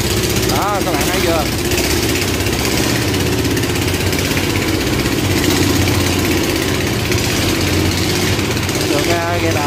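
Boat engines rumble loudly and continuously as river boats crowd through a canal lock, a steady low droning mix of motors with voices talking over it.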